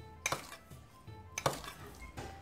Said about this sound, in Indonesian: Kita ambil sendok.